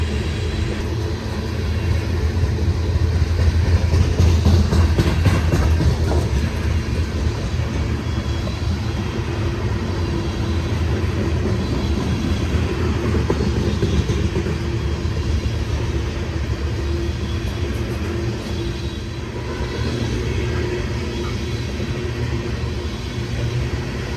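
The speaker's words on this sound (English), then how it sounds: "this train has 4 Canadian Pacific locomotives, 2 on the head end and 2 in distributed power service on the rear" Union Pacific freight train with Canadian Pacific locomotives on the Cascade subdivision rolls past, a steady loud rumble with rattling wheels that holds for the whole span.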